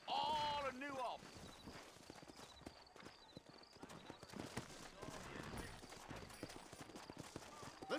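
Horse hooves clip-clop steadily on a town street in the Red Dead Redemption game, a moderate walking rhythm running under a voice and a brief neigh near the start.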